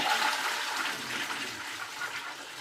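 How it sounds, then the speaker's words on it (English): A toilet flushes in a loud, steady rush of water that fades slightly toward the end, with no voices over it. "a toilet flushing"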